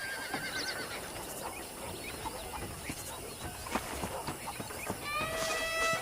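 A horse whinnies and snorts in Red Dead Redemption amid light hoof clatter and ranch ambience, before a short musical tone sounds near the end.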